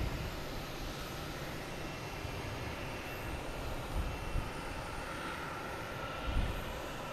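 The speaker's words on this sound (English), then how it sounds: "It's a 737 Boeing ER." A Boeing 737 airliner arriving at Logan Airport makes a faint, steady engine rumble and whoosh that lasts the whole stretch, with a few soft bumps and no talking.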